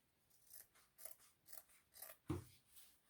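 Scissors cut through an old piece of blue denim jeans fabric in a run of about five close, crisp snips at a steady rhythm, with a heavier crunching cut near the end and no talking.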